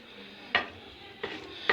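A spoon stirs a cooked bulgur pilaf-style dish in a pot, making three short scraping clatters spaced over a quiet kitchen background.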